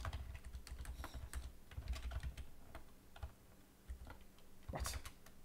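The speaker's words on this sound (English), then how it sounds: "I just was typing wrong" Fingers type rapidly on a computer keyboard during a programming session, producing dense, irregular clicks and key thumps close to the mic, with occasional brief pauses and faint murmuring in the background.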